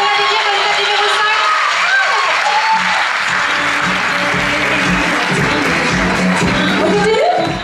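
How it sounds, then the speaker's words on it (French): Audience at a Miss Côte d'Or beauty pageant applauding contestant number five: sustained, loud, dense clapping from a large crowd with some cheering, continuous for several seconds. "On va applaudir candidate numéro 5."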